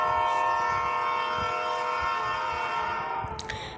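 A train pulls into a station, its long steady horn blaring over a dense rolling rumble of wheels and carriages, loud and close, easing off slightly toward the end.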